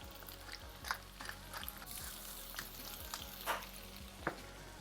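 Potatoes fry quietly in a pan for German fried potatoes, a soft continuous sizzle broken by occasional clicks and scrapes of stirring, close by and without talk.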